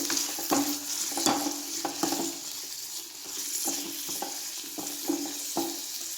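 Garlic and ginger fry lightly in a pan, a constant close sizzle with repeated sharp scrapes and taps of a spoon stirring them, and no voices.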